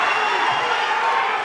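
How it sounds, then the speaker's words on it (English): A fight crowd at a kickboxing bout roars and cheers wildly, a dense, loud, unbroken wash of voices with no pauses across the short moment. "Crowd absolutely going wild,"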